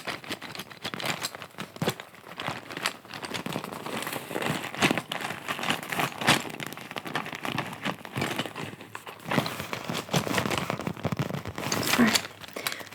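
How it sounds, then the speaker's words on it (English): Pencils clatter and rattle against each other inside a pencil case, a close, soft stream of irregular clicks and knocks with occasional louder shakes. "I just love the sound of pencils inside a pencil case"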